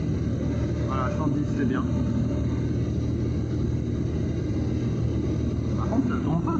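A light aircraft's engine drones as a loud, steady rumble throughout the flight while someone talks over it in the cockpit.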